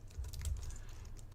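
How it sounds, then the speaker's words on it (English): Quick, light key taps on a computer keyboard as a web domain name is typed, faint and close, with no voice. "we're actually just going to go through the practice of typing in your domain name in a new tab"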